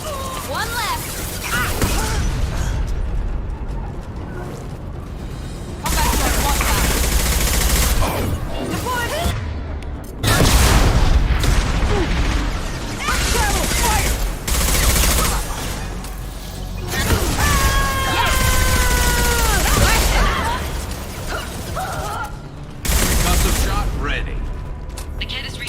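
Combat gunfire from the video game Mass Effect 2: bursts of shots and booming impacts recur through the scene, mixed with game effects and voices talking over the action.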